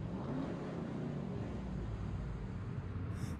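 A racing car engine from a music video roars in a steady, loud, unbroken rumble for the full few seconds, with no voices over it.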